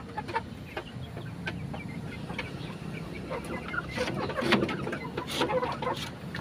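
Several chickens, including breeder hens, cluck softly and intermittently nearby, with scattered clicks and rustling in the background.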